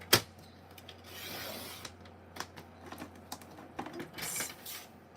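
Scored cardstock is cut close by, in short irregular bursts of slicing and rubbing, with a few sharp taps and clicks between quieter stretches.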